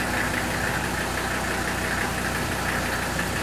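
A strong diesel engine runs at a steady idle with a dense, even, close rumble and knock that stays constant throughout.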